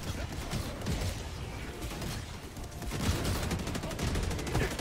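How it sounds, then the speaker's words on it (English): Dense, rumbling bursts of mortar shells landing in the video game Helldivers 2, a continuous barrage of booms and impacts with scattered gunfire mixed in, loud and filling the scene. "Careful, mortars are landing up here."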